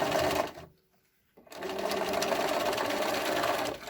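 A sewing machine runs a rapid mechanical stitching chatter over elastic fabric while a scrunchie is made. The whirring starts, stops briefly and resumes steadily close by.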